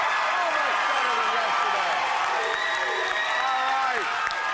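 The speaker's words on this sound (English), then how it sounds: "Give yourselves a hand." A studio audience at a televised game show applauding, dense sustained clapping with some cheering and a voice talking over it, steady and close.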